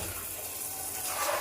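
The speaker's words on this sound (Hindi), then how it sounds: "मैं इनको भिगा दूँगी कुछ देर के लिए पानी में" Water running into a container to soak clay diyas, a faint, steady trickle and splash like a tap filling a vessel, low in level and continuous with no talking.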